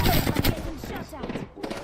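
Rapid gunfire bursts in a video game, loud and dense for the first half then thinning into scattered shots, with a voice talking over the action.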